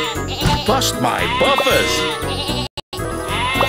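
Sheep bleat repeatedly in a Thomas and Friends railway game, a run of loud, wavering cries mixed with cheerful music and a character voice speaking over them, ending in a brief cut to silence.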